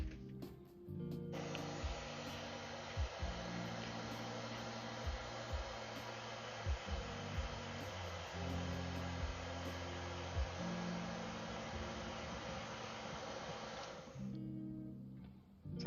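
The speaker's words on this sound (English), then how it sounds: "I have to pull out the hairdryer, else I'm gonna wait for ages for the paint to dry" Hair dryer blowing on freshly airbrushed paint on a miniature bust, a steady whooshing roar that switches on, holds for about thirteen seconds and cuts off, with small clicks and taps around it.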